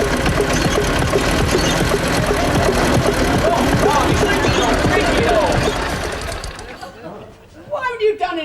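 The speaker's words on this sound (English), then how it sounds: "the noise that engine makes" An old motorbike engine runs loud and rough with a fast, knocking clatter, then dies away, and voices speak over the fading sound.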